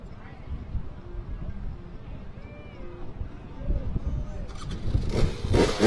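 A two-stroke off-road race vehicle engine rumbles steadily at the San Felipe 250 desert race, with a brief whine in the middle and louder bursts near the end, mixed with background voices.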